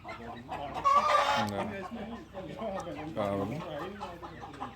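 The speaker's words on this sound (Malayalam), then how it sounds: "ഇതാണ് മുട്ടയിടുന്ന വലിയ കോഴി" Big egg-laying hens on a Maharashtra farm cluck nearby in short bursts, mostly under a person talking loudly close to the microphone.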